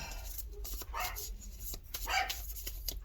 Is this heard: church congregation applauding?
no